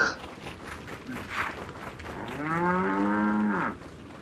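A cow in the Resident Evil 4 VR game gives one long, drawn-out moo at moderate distance, preceded by faint shuffling footsteps and movement noise.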